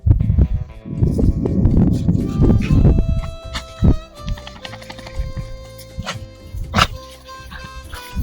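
A hunting dog bays and yelps repeatedly in the distance during a deer hunt chase, amid rustling and forest noise, the barks coming in irregular bursts.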